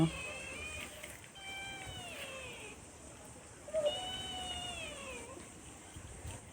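Cats meow several times, drawn-out plaintive cries in two clusters with a pause between, fairly close against a quiet, faintly noisy background.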